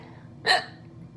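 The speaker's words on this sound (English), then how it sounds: "I have the hiccups right now, as you probably noticed because I hiccuped just now." One sudden, sharp hiccup from a person, close and fairly loud, lasting a fraction of a second against a quiet room background.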